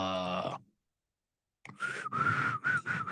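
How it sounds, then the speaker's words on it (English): A person whistles a short melodic phrase, with a brief silence before a run of bright, wavering whistled notes. "Let's try to whistle."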